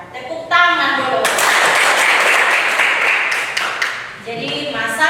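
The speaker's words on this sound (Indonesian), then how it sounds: "Tepuk tangan dulu." A classroom full of students breaks into a burst of applause lasting about three seconds, dense and fairly loud, with a teacher's voice speaking just before and after it.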